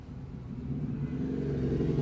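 A bus drives along with a steady low engine rumble and road drone at moderate loudness, building slightly without any pause.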